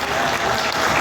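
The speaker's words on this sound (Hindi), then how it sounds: "तालियां हो जाए भाई" Audience applause at a film trailer launch event in Pakistan, a steady dense wash of clapping throughout, loud and continuous with no break.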